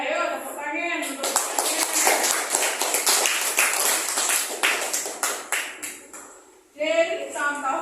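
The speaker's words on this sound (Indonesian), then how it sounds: "Ayo tepuk tangan untuk" A classroom of children clapping hands together, a burst of fast, scattered applause that swells and fades over several seconds, with a teacher's voice speaking before and after.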